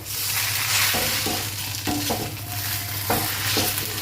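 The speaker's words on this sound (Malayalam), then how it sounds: "ഇതിലേക്ക് നമ്മൾ ഇപ്പോൾ മാഷ് പൊട്ടാറ്റോസ് അതിലേക്ക് മിക്സ് ചെയ്ത് കൊടുക്കുന്നതാണ്" Mashed potatoes get stirred into a chicken cutlet filling in a hot pan, a loud close sizzle broken by repeated scraping and knocking of the spoon against the pan over a steady low hum.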